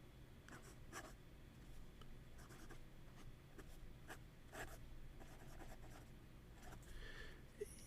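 A Yowo fountain pen with a slitted flex nib scratches across paper in soft, quiet strokes, with short bursts of scraping as letters form and brief pauses between them.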